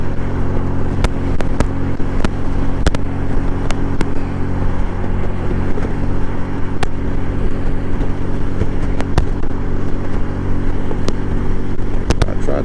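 Can-Am Spyder three-wheeled motorcycle cruising on a Dallas highway, steady loud engine drone and rushing wind noise throughout, with sharp brief clicks and knocks scattered across the ride.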